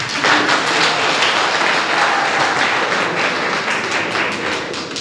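An audience at a university orientation day in Mbouda breaks into sustained applause, a dense, even wash of clapping that stays loud for several seconds and then eases slightly at the end, with no voices over it.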